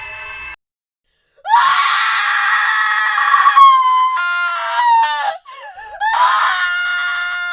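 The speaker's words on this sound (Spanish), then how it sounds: "un grito quebró el cielo del lugar, un grito agudo, adolorido y desesperado. Un grito humano." A loud, piercing high-pitched scream rings out close by after a brief silence, stretching on and breaking into wavering, desperate wails.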